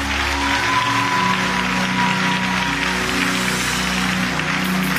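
Dense, steady applause from a gathered crowd at a religious service fills the space, loud and continuous throughout over a faint sustained background tone.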